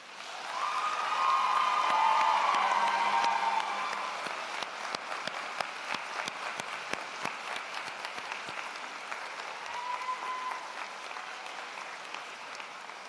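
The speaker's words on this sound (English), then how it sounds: "Graduates, a round of applause, please." Loud applause from a large crowd at a university convocation fills the room, peaking early and then settling into steady, slightly thinner clapping that carries on to the end.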